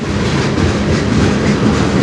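A CN freight train rolls past on the Strathroy Subdivision, a steady close rumble of railcars with faint clickety-clack from the wheels over the rails, loud and continuous with no talking.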